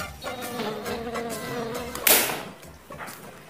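A mosquito gives a thin, wavering buzz that holds for a few seconds, broken near the middle by a sharp click.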